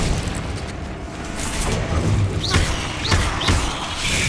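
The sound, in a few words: Incendio fire spell in Hogwarts Legacy video game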